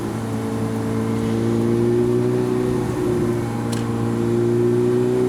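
2005 Ferrari F430 Spider engine in second gear in race mode, a steady, strong tonal drone with slowly rising pitch as it pulls, loud and close with no voices over it.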